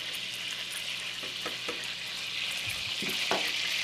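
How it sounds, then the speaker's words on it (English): Fresh homemade pasta is stirred in a pot of water, giving a steady hissing, bubbling wash with a few soft knocks from the stirring, close and without talk. "Give it a little stir."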